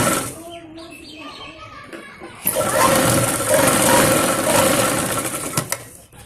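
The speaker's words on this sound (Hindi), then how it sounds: "अब हम इसको ऐसे उल्टा पलटते हुए इसकी यहाँ पे सिलाई लगा लेते हैं" An electric sewing machine stitches the fitting seam of a small girl's top, starting after a quieter stretch with voices and then running in a loud, steady, close-up whir.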